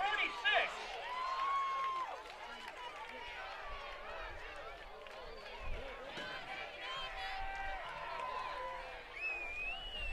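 A high school football crowd roars after an interception, sustained cheering, chatter and scattered clapping filling the stands at a distance, with whistles and a commentator's voice running over the top.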